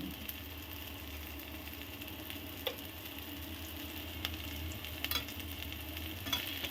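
A spoon stirs a spiced pea filling in a hot pan, a steady soft sizzle with occasional light scrapes and clicks against the pan, close and alone without talk.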